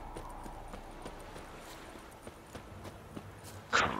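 Horse hooves clip-clop at a steady riding pace in The Witcher 3, a soft rhythmic series of footfalls under faint game ambience, ending with a brief louder burst.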